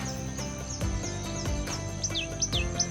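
Birds sing close by in quick, repeated high chirps with short descending sweeps that come faster toward the end, set against a steady tonal background.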